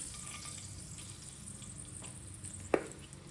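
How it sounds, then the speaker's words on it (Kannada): Curry leaves and tempering spices sizzling in hot oil in a kadai for sambar: a steady close frying hiss throughout, with one sharp pop or spatter near the end. "ಸಾಂಬಾರಿಗೆ ಒಗ್ಗರಣೆ,"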